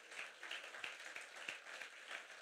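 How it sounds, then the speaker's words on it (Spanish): Church worshippers clap together in a rhythmic, moderately loud round of applause during a sermon, the claps falling in a roughly steady beat. "Dele ese fuerte aplauso al Señor Jesús."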